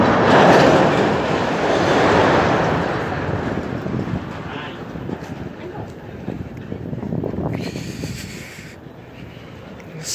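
Metro train rolling through a station platform, a loud broadband rumble and rail roar swelling at the start then easing into a steady clatter, heard close by with ambient platform noise and no talking.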